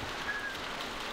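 Steady rain falls in The Walking Dead video game, a soft constant hiss of drops on surfaces at low level with no other sounds.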